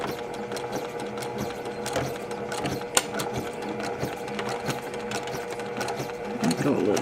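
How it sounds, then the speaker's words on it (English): A sewing machine runs slowly and steadily while stitching a quilt-as-you-go block, with a close mechanical whir and rhythmic needle clatter that speeds up near the end; a voice talks over it. "I'm going to start the machine slowly, a couple of stitches, and I'm going to back stitch"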